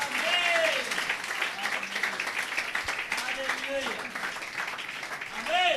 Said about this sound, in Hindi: अपने लिए तालियां बजाओ आप